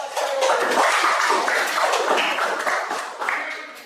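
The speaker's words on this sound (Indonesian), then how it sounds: "kita tepuk tangan dulu hasil presentasi dari kelompok" A classroom of students clapping their hands after a group presentation, a dense burst of many claps in uneven rhythm that thins out toward the end, close and fairly loud.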